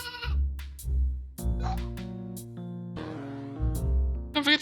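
A video game goat bleats in a series of loud, wavering cries with short pauses between them, and a final cry ends in a brief burst.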